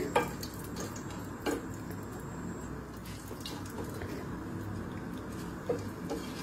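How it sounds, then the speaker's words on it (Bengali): Whole chillies frying in a hot spice tempering on a low flame, a constant close sizzle and crackle with a few sharp scrapes and knocks as a utensil turns them in the pan. "একটু লঙ্কাটাকে এপিট ওপিট করে দিচ্ছি।"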